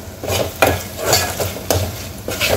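Tomatoes sautéing in a pan for a drumstick curry, with a soft steady sizzle and several distinct scrapes of a spoon stirring against the metal at irregular intervals, close and moderately loud.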